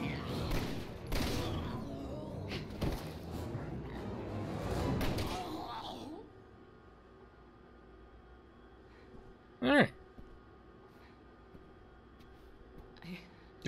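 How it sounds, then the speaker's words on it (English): Dense bursts of gunfire fill the first half in the video game Resident Evil 6, with voices mixed in. Then things fall quiet apart from a single short, sharp sound near the end. "Okay, I'll do it. I'll do the shooting."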